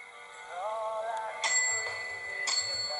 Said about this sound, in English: It might be an Otis, according to the bell.